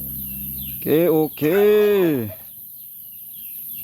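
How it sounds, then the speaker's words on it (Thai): Farmyard ducks and chickens squawk twice in close succession, a short call then a longer drawn-out one, loud and close, followed by quiet. "เสียงเป็ดเสียงไก่ห้องแซวสะอยู่นี่"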